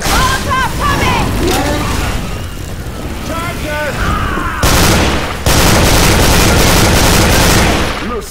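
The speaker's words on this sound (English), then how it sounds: "Molotov coming!" Molotov cocktail bursting into fire and exploding in Left 4 Dead 2, a loud booming blast amid continuous gunfire and game noise, with players shouting and talking over it.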